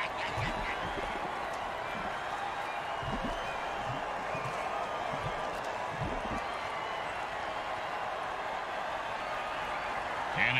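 Crowd noise from a football game in a video-game league matchup: a steady, dense roar of cheering and chatter that holds at an even level throughout, with scattered low thumps and whoops underneath.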